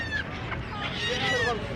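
Chickens at a Bangladeshi village market give short squawks and clucks amid a busy crowd murmur, brief and moderately close.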